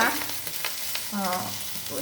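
A tempering (popu) of spices sizzles and crackles steadily in a hot pan for coconut rice prasadam, close and continuous with no voices over it.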